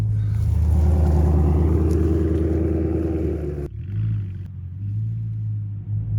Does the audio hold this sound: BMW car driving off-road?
yes